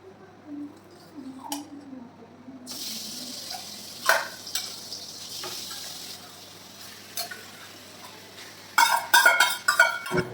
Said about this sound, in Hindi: तो ज़रा सा रिफ़ाइंड में हम लोग की थोड़ा भून लेते हैं।